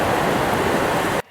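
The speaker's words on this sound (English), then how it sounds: "So here I have a waves ambience example that sounds like this." Ocean waves ambience sample: a dense, loud, steady roar of surf and wash filling the whole clip, then cutting off abruptly near the end.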